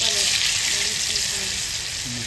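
Shegh fish sizzle and fry steadily in a pan after being turned, with a broad hiss throughout and faint voices in the background.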